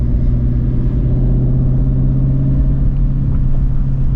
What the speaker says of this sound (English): Now again, we're gonna go accelerate.